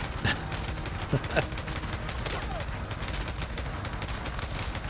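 Suppressed gunfire in the video game Days Gone, rapid muffled shots in bursts over a dense, noisy game soundscape with a few sharper cracks.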